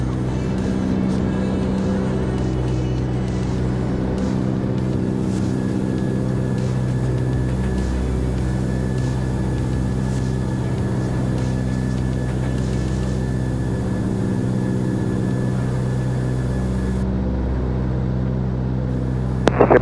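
Lockheed Electra Junior 12A in flight, its engines droning steadily from inside the cabin, a constant low hum with harmonic tones throughout and no talk.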